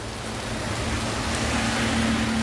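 Rain falls steadily outdoors on a city street in Antioch, Illinois, a dense, even hiss that holds at a constant loud level throughout, with no voices.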